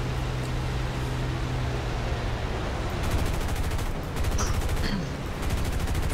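Rapid machine-gun bursts fire in the aerial combat video game War Thunder, quick repeated rattling volleys over a steady engine-like roar, moderately loud and close.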